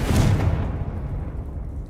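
A single deep magical explosion from a spell cast in the video game Hogwarts Legacy, a loud booming burst that fades into a low rumbling tail.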